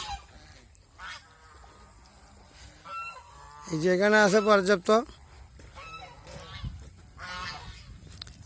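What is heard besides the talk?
ducks calling near a river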